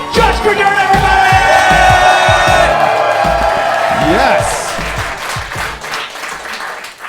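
A comedy club audience in Baltimore claps and cheers loudly for a comedian coming on stage, with dense applause, whoops and shouts that gradually fade as a voice speaks over it.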